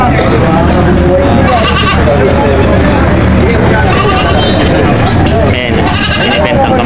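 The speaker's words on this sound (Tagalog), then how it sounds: "Ayan, binibenta ang kambing." Goats bleat repeatedly at a busy Philippine goat market, with overlapping calls near and far over constant crowd chatter and people talking close by.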